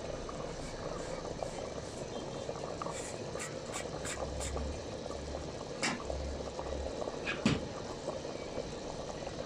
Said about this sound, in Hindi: देखिए चने में ना उबाल आ रहा है